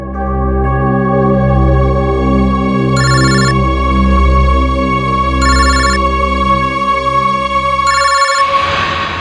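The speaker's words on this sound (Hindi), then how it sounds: "इनका फोन मत उठाओ तुम।" A telephone rings loudly with an electronic ringtone, a sustained tone broken by three short repeated ringing bursts. It plays over a low musical drone and is cut off near the end.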